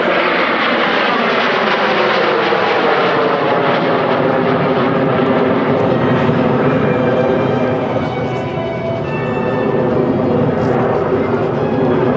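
A Messerschmitt Me262 jet fighter flies by at an air display at Villaroche, a loud roaring engine with a rising and falling whine as it passes overhead.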